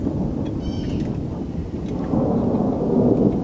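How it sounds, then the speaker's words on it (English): Thunder rumbles low and continuous as rain begins to fall outdoors, with a steady loud wash of rain noise beside a Kubota BX23S compact tractor. "as you can hear, the thunder's rolling in and it is now starting to rain"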